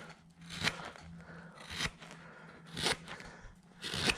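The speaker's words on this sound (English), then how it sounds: "I'm using a number 9 gouge to come in here on that" A number 9 gouge carves the brim of a wooden farmer's cap, giving short crisp cutting and shaving strokes about once a second, close and fairly quiet, with no talk.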